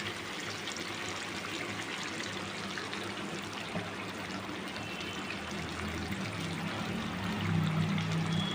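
Rose water and milk poured into chicken chaap in a home kitchen, a steady liquid stream running close and continuous, with a faint low background hum and no talking.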